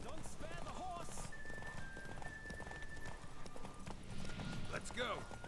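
Rhythmic hoofbeats of a galloping horse in the video game The Witcher 3: Wild Hunt, with game-like effects, a whinny, and a voice talking over it throughout.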